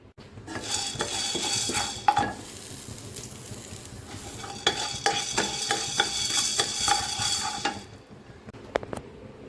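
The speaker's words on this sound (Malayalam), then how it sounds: "മൂന്ന് ഏലയ്ക്ക കുറച്ച് പട്ട മൂന്ന് ഗ്രാമ്പു ഇത്തിരി കുരുമുളക് ഇട്ട് കൊടുത്തേ ഇനി ഇതൊന്ന് റോസ്റ്റ് ചെയ്തെടുക്കാം" Cardamom, cinnamon, cloves and pepper roasting in a pan, a light sizzle under repeated scraping and stirring with a utensil against the metal, close, with clusters of clinks and a quieter pause near the end.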